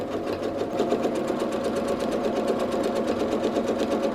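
A home sewing machine free-motion quilts a meandering pattern, its needle hammering out a continuous, fast, even stitching buzz up close with no voices.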